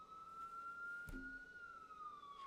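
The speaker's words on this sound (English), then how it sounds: "We're doing so good with the sirens." A distant siren wails in a long, slow sweep, faint and steady, with a brief low thump partway through.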